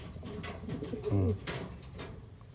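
Black check pigeons in a loft giving a single low, throaty coo, close but fairly soft over a background hiss, with faint scattered rustling around it.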